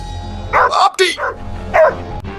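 A small dog in an animated Subway Surfers-style scene gives three short yapping barks in quick bursts, fairly loud and close, with voices around them.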